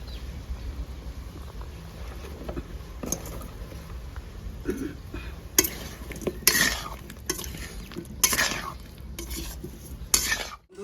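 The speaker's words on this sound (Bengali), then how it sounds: "আমি আলু ভেজে নেবো।" Potatoes fry in a pan under a soft, continuous sizzle while a utensil stirs and scrapes against the metal, giving irregular clinks and clatters that grow busier partway through, with no talking.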